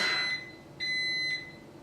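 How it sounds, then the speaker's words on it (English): An electronic alarm beeps as a steady, high, piercing tone, two sustained beeps separated by a short gap, fairly close and with no one talking. "I was waiting for the beep to stop"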